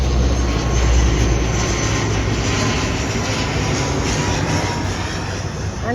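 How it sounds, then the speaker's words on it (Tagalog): A large airplane passes overhead near Quiapo, its loud broadband roar steady and heavy throughout, fading slightly toward the end, with no voices. "Ang laki ng aeroplano."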